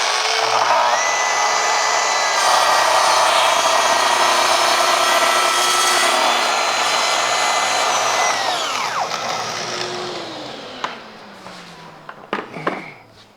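A power saw cuts a 45-degree bevel through wood for custom recording-studio rack cases. The loud, steady whine holds for several seconds, then the blade winds down, and a few small knocks and clatters follow.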